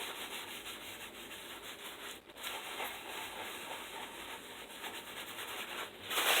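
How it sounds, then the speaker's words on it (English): Plastic rubbed over paper on a craft journal page, a steady close, soft scratchy friction that continues for about six seconds with a brief pause near the middle and a louder stroke at the end. "I'm going to take a little piece of plastic up here and rub it so that I don't tear it."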